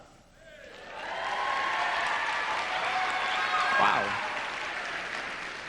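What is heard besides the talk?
crowd applauding at a show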